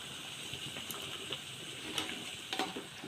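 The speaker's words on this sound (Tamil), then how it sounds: "இப்போ நல்லா கலந்து விட்டுடலாம்." Soft scraping and clinking of a spoon stirring thick food in a pot, a few light knocks against the metal over a quiet sizzle.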